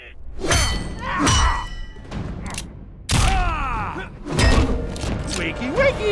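Punches and hits land with heavy thuds and whacks in an Injustice: Gods Among Us fight, with several close, loud impacts, game voice grunts and effects between them.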